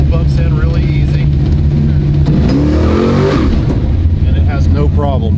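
A Dart drag race car's engine held at about 2,000 rpm while staging, a loud steady droning rumble that rises briefly, with people talking over it.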